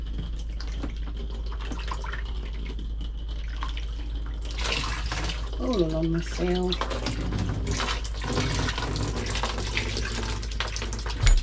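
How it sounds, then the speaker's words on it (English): Tap water runs steadily into a motorhome shower tray after the seal has been re-siliconed, a continuous close splashing hiss with someone talking briefly over it partway through. "So I'll run some water."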